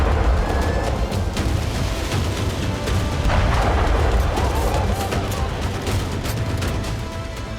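Several explosions go off after a fire at a Russian oil depot, deep booms and crackling bursts rolling under steady rumble, loud and continuous with no clear pauses.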